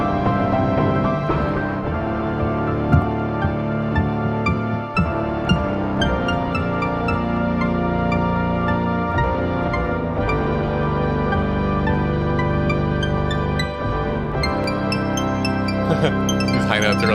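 A Casio SK-1 sampling keyboard plays continuously with effects applied, producing a dense, buzzy tone and bright tinkling high notes that run steadily and loudly for the whole stretch, with no voice over it.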